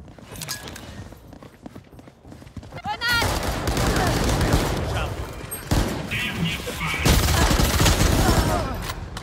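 Dense rapid gunfire from a PC first-person shooter game rattles loudly and almost continuously, with bursts building in intensity over game effects and a voice speaking.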